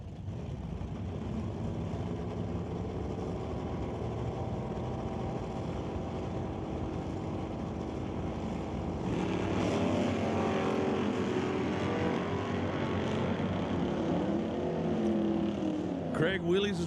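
A drag racing car launches down the strip at an NHRA event in a wheelie, its engine roar swelling midway over a steady crowd and engine din, with an announcer talking throughout.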